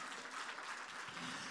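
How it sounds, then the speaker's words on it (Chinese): A congregation at a church sermon claps together, making a dense, even wash of applause that holds steady from start to finish at moderate volume. "来掌声鼓励一下。"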